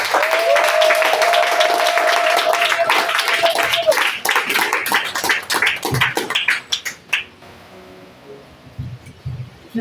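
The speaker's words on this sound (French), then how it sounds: "Est-ce qu'on peut acclamer la parole?" A church congregation claps and cheers in loud, dense applause that gradually thins into scattered claps and fades toward the end.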